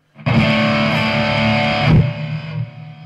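An electric guitar played through a Marshall DSL 50 with delay and a slight reverb, a loud distorted sustained chord ringing out, then a second struck chord that decays with a trailing echo tail.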